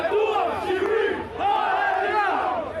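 Protesters sit in a pedestrian square to block passage, their crowd voices rising in loud, sustained chanting and shouting that swells, dips briefly near the middle, then surges again.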